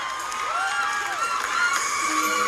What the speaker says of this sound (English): The crowd's getting wild for her.